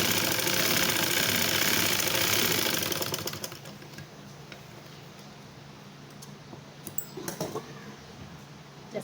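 Sewing machine stitching a child's dress, a loud, fast mechanical whirr that stops after about three seconds, leaving faint ticks and clicks.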